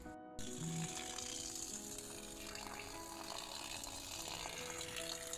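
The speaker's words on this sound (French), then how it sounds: "Donc la pouzzolane, il faudra bien que je la rince avant." Running water rinses pozzolana volcanic gravel in a planter for a rainwater tank, a steady broadband wash with a faint rattle of stones that continues without pause.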